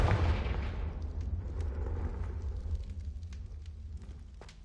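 A Confringo fire spell explodes in Hogwarts Legacy, a loud booming burst with a deep rumbling low end that decays over several seconds, with faint crackles and scattered sharp hits trailing behind.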